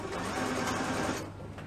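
A sewing machine stitching leggings runs in a fast steady whir at close range, then stops abruptly near the end.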